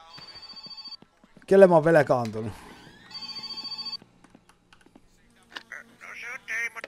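A phone rings repeatedly in the video game My Summer Car, in short regular bursts. Someone talks loudly between the rings.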